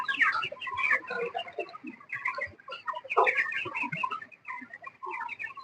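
Chickens cluck and chatter continuously on a poultry farm, many birds overlapping in a dense, busy chorus at close to mid range with no voices.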